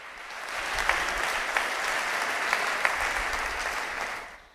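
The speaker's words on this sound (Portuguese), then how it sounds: "você pode aplaudir ao Senhor." A church congregation applauds in a dense, sustained wash of many hands, steady and moderately loud, with a few sharper claps standing out and the applause fading slightly at the end.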